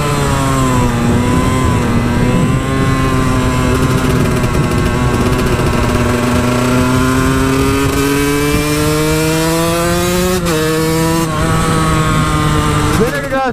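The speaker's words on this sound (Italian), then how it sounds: "invece c'è una macchina" A car engine revs loudly at close range and climbs steadily in pitch as the vehicle passes, with a few brief bumps near the end.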